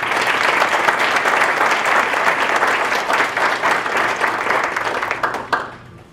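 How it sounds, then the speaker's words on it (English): An audience at a county superintendent's awards of excellence ceremony applauds, a full, steady roar of clapping that runs for about five seconds before tapering off, with a few last claps and then near silence. "Give yourselves a round of applause."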